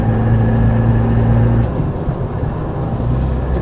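A Land Rover 90 hardtop with a 200TDi diesel engine drives along, its low, loud engine drone heard from inside the cab, with a pitch drop partway through as the load changes.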